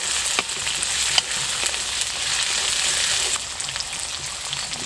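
Bean seeds fry in hot oil with browned onion in a home kitchen, a close, steady crackling sizzle broken by a few scraping stirs, with the frying settling slightly near the end.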